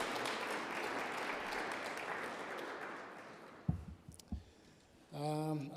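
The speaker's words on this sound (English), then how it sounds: "Can we give another round of applause to Mr." An audience at a petroleum policy consultation in Nkurenkuru gives a round of applause. The clapping is steady for about three seconds and then fades, leaving a few thumps before a voice begins speaking.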